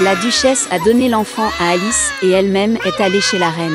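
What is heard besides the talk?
baby crying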